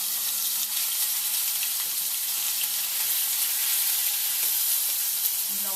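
Finely chopped onion frying in very hot oil for palak paneer, giving a steady, close, continuous sizzle with no talking.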